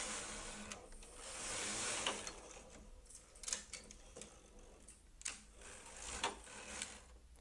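A knitting machine carriage runs across all needles knitting a full rib, giving a steady mechanical whirr with irregular clacks and ticks, close and alone with no talk.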